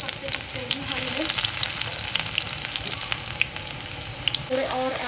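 Radish and mushroom greens frying in a kadai, a steady close sizzle with crackling pops and the scrape of stirring throughout, faint background tones under it.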